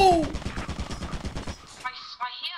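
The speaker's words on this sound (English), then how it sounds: "I hear gunshots." A turret in the video game Lethal Company fires a rapid burst of gunshots, loud and close for about a second and a half, followed by a short electronic sound.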